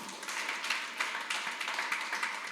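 Church congregation applauding during a worship service, an even spread of hand claps at moderate loudness with a slightly rising rhythm and no clear speech over it.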